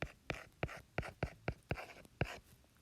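Pen tapping and stroking while writing out a precalculus fraction problem, a series of about eight sharp, quiet, evenly spaced ticks, close and alone.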